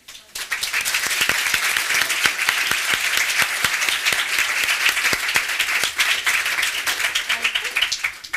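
Loud, sustained applause from a large audience at an awareness event, dense clapping filling the whole stretch with a few sharper claps standing out, steady throughout.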